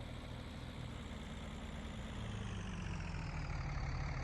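A tractor engine idles in Farming Simulator 19, a steady, low, even rumble that holds constant and faint throughout with no talking over it.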